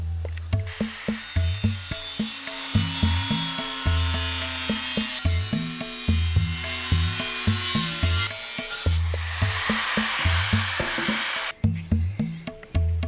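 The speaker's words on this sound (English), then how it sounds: "now we have to cut this whole section out with an angle grinder." An angle grinder cuts through metal steadily for several seconds, a harsh high-pitched whine over a lower motor hum, close by, with brief pauses near the end.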